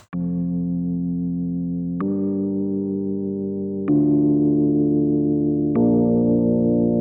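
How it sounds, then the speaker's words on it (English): A Rhodes electric piano with no effects plays four sustained chords in succession, clean and mellow, each ringing for about two seconds with no other sounds. "So the first layer here is the Rhodes instrument."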